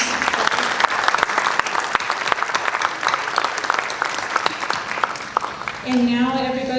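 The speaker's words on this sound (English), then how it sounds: "round of applause?" Applause from a crowd at an occupational therapy assistant graduation ceremony, dense continuous clapping at full strength, then a voice begins speaking near the end as it winds down.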